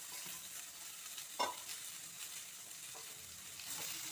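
Carrot and ridge gourd pieces tumble into a hot frying pan, giving a steady close sizzle with a brief louder hiss as they land, then continued frying crackle without talk.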